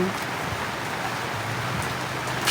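Rain falls steadily in Angeles City, Pampanga during the rainy season, a dense continuous hiss of drops on surfaces, close and moderately loud, with a faint voice underneath.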